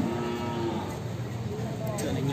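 Young water buffalo lowing at a buffalo market in Cao Bằng, Vietnam, a loud, close, sustained moo with harmonics running the whole stretch over a busy crowd murmur.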